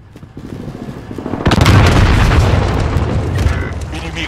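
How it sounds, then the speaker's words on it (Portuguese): A grenade detonates in Call of Duty Modern Warfare with a loud, close boom that rolls into a long, heavy rumble. Faint game voices are heard beforehand. "Granada lançada!"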